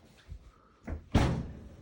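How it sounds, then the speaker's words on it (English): An oven door shuts with one solid thud after a soft clatter, loaded on the top shelf with a ginger cake to bake. "and close the door"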